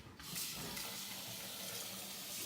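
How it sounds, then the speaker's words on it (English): Cold tap water runs steadily into a bowl as long grain rice is rinsed in a kitchen sink, a close, even splashing stream that starts abruptly and continues without talk. "So what I'm gonna do is wash my rice"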